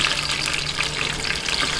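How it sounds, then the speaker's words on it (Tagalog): Milkfish (bangus) being half-cooked in hot oil gives a dense, steady hiss and crackle of frying that runs continuously and fairly loud for the whole short stretch, with no voices. "Okay, mainit na po yung ating mantika. I-half cook lang po natin itong ating bangus."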